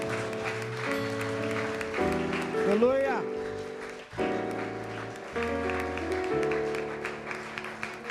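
Church congregation clapping in praise during a service, a sustained burst of applause mixed with sung and spoken voices over music, one voice calling out a short exclamation.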